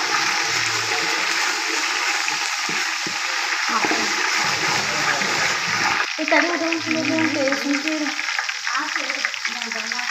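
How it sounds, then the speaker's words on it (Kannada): Fresh coriander and mint leaves fry in a hot pan with a loud, steady sizzle and crackle throughout, with occasional stirring scrapes and a brief burst of spatter partway through. "ನೆಕ್ಸ್ಟ್ ಕೊತ್ತಂಬರಿ ಪುದೀನ ಹಾಕ್ತಾ ಇದ್ದೀನಿ ಸ್ವಲ್ಪ ಫ್ರೈ ಆಗಬೇಕು"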